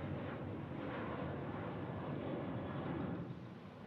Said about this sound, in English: This 737-800 headed off to Chicago Midway.